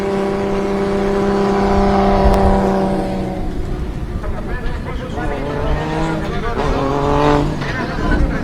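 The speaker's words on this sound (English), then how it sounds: "We've got Kostas Pastis coming past in his RB30 powered R32 there, R34 front end on it" An RB30-powered Nissan R32 drift car with an R34 front end rolls past on a parade lap at a drift event, its engine note steady and loud, then fading as it passes, with a commentator talking throughout.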